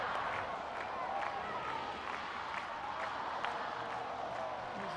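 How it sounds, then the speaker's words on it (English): Crowd noise at a women's field hockey match between Argentina and Germany, a steady distant wash of applause and cheering with scattered claps, heard under a commentator's voice. "The crowd start to get behind their team once more"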